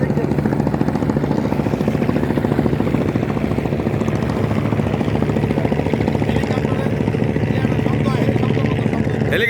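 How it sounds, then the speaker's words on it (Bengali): A helicopter flies over the Buriganga river during a search operation, its rotor beating in a steady, even chop that stays loud and continuous throughout. "হেলিকপ্টার"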